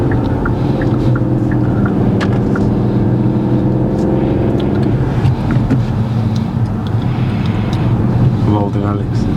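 A car pulls away uphill in first gear during a driving lesson, its engine giving a steady, continuous drone under rumbling wind noise.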